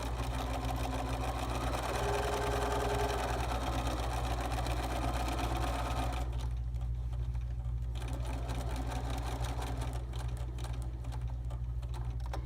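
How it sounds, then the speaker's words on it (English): A sewing machine stitches a quilt border with a steady mechanical hum and rapid needle chatter, running continuously, then pausing briefly before resuming more quietly. "I want to drop my needle where I stopped sewing before. And then I will just pick up sewing."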